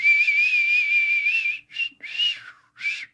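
A man whistles one long steady note, then three short broken bursts with gaps between them, close and clear with no talking.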